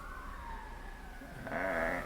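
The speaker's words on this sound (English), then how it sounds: "It's coming up our street. All of this is from the shear. Going up the hill. Fire truck." A fire truck siren wails faintly and far off as the truck heads up a residential street and climbs a hill, a thin rising tone that swells a little near the end.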